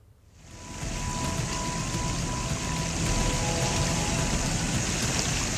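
Swollen Gandak river in flood from Nepal rains, its heavy current roaring as a steady broadband rush that swells in after a quiet start and holds loud and continuous.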